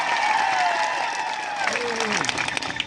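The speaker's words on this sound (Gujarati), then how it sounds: "એકવાર જોરદાર તાળીઓ પાડી" A crowd at a village political gathering claps in a brief burst of applause that rises and then thins out, with a sustained voice or tone sliding downward over it.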